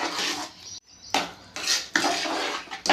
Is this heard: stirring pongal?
yes